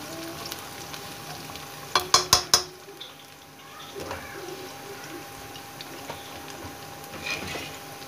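Chopped tomatoes go into a pan of frying onions, a quick burst of four sharp metallic clanks from the spoon, then a soft sizzle and intermittent stirring scrapes, close and moderate, with faint birds chirping in the background.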